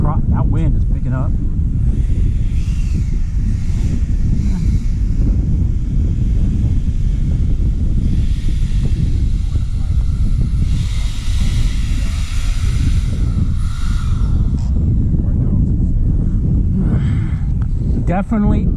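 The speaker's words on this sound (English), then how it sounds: "that wind is picking up" Steady wind buffets the microphone at an RC model airfield where a Freewing A-10 model jet is flown, a constant loud rumble running throughout with people talking over it.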